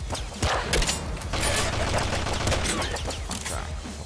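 Rapid gunfire from the Nuclear Throne video game, a dense continuous volley of shots firing loudly and steadily throughout, with a clattering mechanical edge.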